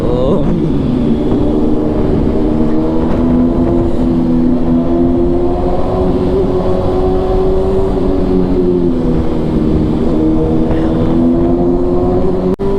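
A loud BMW S1000RR sport motorcycle engine hums steadily at a low, even pitch, rising slightly, with a dense roar reverberating inside an underpass.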